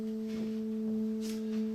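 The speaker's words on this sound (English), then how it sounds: "a little bit like a" Pure steady sine tone from a noise generator synthesizer, a smooth unwavering hum that holds constant and clean throughout, with faint background noise beneath it.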